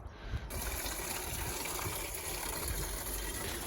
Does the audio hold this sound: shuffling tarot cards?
no